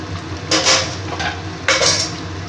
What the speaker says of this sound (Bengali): এবার ভেজে রাখা মাছগুলোকে আমি দিয়ে দিচ্ছি